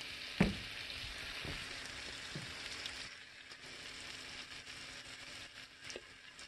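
Steak searing with garlic butter in a hot cast iron pan gives off a faint, steady sizzle, with a few sharp clicks and bumps at the start.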